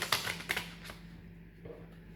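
A brief riffle of tarot cards being shuffled, a few quick papery flicks up close, then near silence with faint handling noise.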